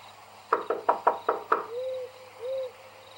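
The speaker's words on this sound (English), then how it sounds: "I knocked one more time out of desperation," Six quick, sharp knocks on a door in a steady rhythm, fairly close, followed by two soft hooting tones in a quiet setting.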